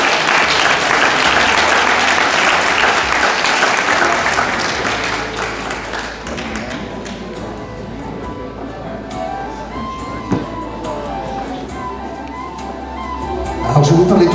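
A hall audience applauds dancers in traditional Breton costumes at a Quimper festival night. The clapping is loud and dense at first, then fades gradually, leaving a quieter murmur of voices and a few late claps.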